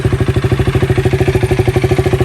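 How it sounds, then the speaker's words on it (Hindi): A KTM 200 Duke BS4 motorcycle engine idles close by with a fast, steady, thumping single-cylinder pulse and mechanical clatter, loud and even throughout. "तो ये है KTM 200 ड्यूक का BS4 का साउंड"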